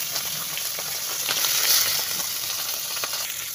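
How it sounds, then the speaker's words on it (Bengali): Fish head frying in hot oil in a home kitchen, a steady dense sizzle with crackling pops that swells briefly in the middle and continues alone without talk. "চলো মাছের মাথাটা ভেজে নিই"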